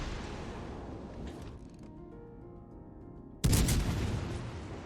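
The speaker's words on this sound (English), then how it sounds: "Interesting that the Helena is firing AP at us." Naval gunfire in World of Warships as the cruiser Helena's 155 mm guns fire armor-piercing shells: a sudden loud, broadband blast near the end that rings out and decays, following a quieter stretch of low engine rumble and tonal hum.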